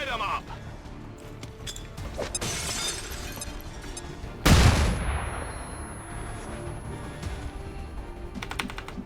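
A flashbang grenade bursts in XCOM 2 Long War 2 with a single loud, sharp blast and shattering crack, set amid scattered gunfire and game ambience.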